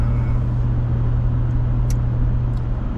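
Steady road traffic rumble heard from inside a car driving toward Jumeirah and Jebel Ali in Dubai, UAE, with a continuous low engine and tyre drone and a couple of faint passing noises.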